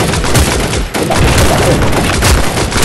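Dense gunfire in the video game Wasteland, loud continuous bursts of rapid shots with booming impacts and a brief dip near the one-second mark before the firing resumes.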